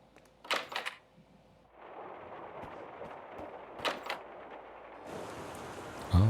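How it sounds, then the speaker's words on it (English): Rain falls in the video game Rue Valley as a steady, soft hiss that settles in partway through, with louder thuds and clatter near the start and middle and no talking. "Oh, it's raining."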